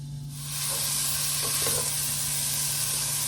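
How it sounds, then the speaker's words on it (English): Thick chopped bacon, six or seven pieces, frying in a pan as its fat renders, a steady close sizzling hiss that swells after a brief start and holds evenly throughout. "cooking chopped up bacon, and I did like 6 pieces, I think, 6 or 7 pieces"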